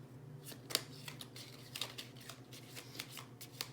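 A deck of small oracle cards from the Secret Garden being shuffled and drawn, a close rustling flutter of riffled cards with sharper snaps scattered throughout, quiet and without talking.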